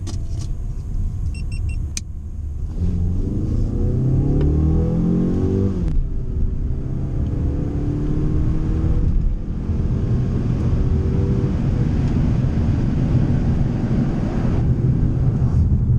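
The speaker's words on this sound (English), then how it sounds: "welcome to the 2018 Mazda 6 driving portion. Let's hop out on the road and see how this thing does." A 2018 Mazda 6 Touring sedan drives on the road, heard from inside the cabin as a steady engine hum and tire rumble, with the engine note rising as it accelerates early on, followed by continuous cruising noise.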